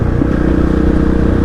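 A Kove 450 Rally Pro motorcycle fitted with an HGS exhaust idles loud and close, a steady rapid single-cylinder thump with slight mechanical clatter and no talk.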